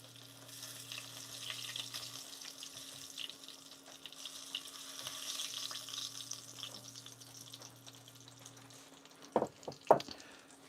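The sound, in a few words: battered food submerged in hot frying oil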